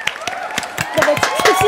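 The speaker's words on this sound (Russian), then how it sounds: "Я сейчас встану и буду аплодировать" One person clapping at a steady rhythm, about eight crisp claps in under two seconds, close by and mixed with someone talking.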